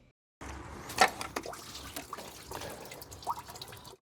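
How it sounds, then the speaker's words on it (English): Water dripping and trickling from an Opel Corsa OPC Nürburgring Edition engine during a timing and accessory belt replacement, a quiet run of small splashes and drips with a few sharper plinks, close by and alone. "Water is coming out."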